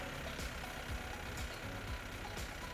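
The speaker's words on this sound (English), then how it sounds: "Start the engine and engage the parking brake." A Yanmar YM series tractor with front loader idles steadily with its diesel engine, a continuous low rumble throughout with faint periodic clunks, no voices.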